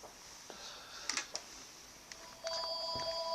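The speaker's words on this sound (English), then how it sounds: "Oh, it's a phone." A telephone goes off indoors, quiet clicks and then a steady electronic ring tone starting partway through, faint and in the background.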